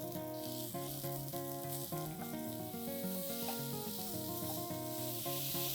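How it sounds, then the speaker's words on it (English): Sliced mushrooms with ginger and garlic fry on high flame, making a steady, bright sizzle that holds throughout, with a layer of tonal music underneath and no talking. "add in your sliced mushrooms. And now we're going to cook this on high flame"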